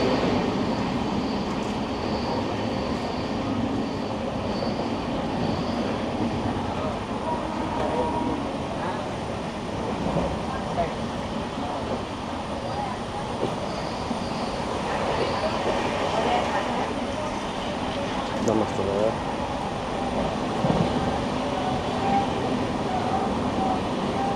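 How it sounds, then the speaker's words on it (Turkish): Steady rumbling and clattering of a train running on rails in India fills the whole stretch, loud and continuous, with faint voices mixed underneath. "Tren böyle mi gider?"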